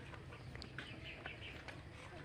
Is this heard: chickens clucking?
yes